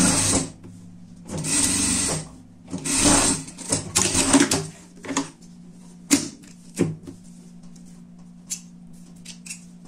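A sewing machine stitching a seam on a fabric pet cape, running in short close bursts of rapid mechanical whirring and clatter that trail off into brief stops and clicks.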